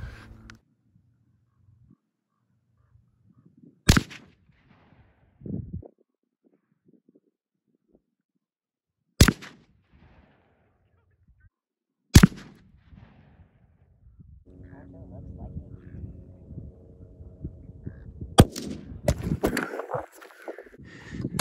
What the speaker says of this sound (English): I accidentally shot the camera tripod